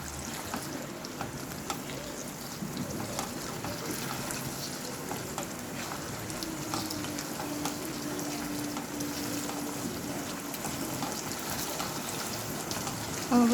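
Fried okra is stirred into a yogurt gravy in a frying pan, giving a continuous soft sizzling and wet churning texture at a steady moderate level, with a faint clatter at the very end.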